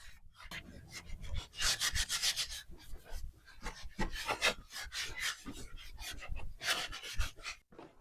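Wax is rubbed by hand onto a wooden home decor piece, making bursts of raspy scrubbing strokes in an uneven rhythm, close and fairly quiet.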